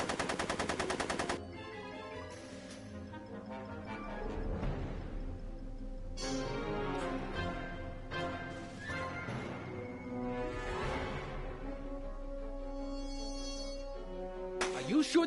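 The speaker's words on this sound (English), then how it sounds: "Are you shooting at me?" Bursts of machine-gun fire in a Back to the Future video game, intermittent volleys over game music and effects, moderately loud, with quieter stretches between them.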